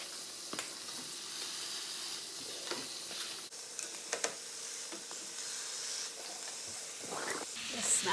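Hamburger patties fry in bacon grease in a pan with a continuous close hiss and sizzle, broken by brief scrapes and crackles.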